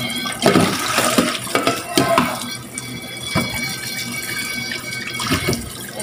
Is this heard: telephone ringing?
no